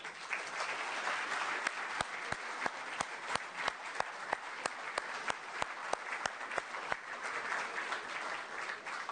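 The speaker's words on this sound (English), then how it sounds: "And I please applaud them for this support." Audience applause at the closing ceremony of the 4th World Forum on Intercultural Dialogue, steady massed clapping in a large hall with regular sharp individual claps standing out, continuous throughout.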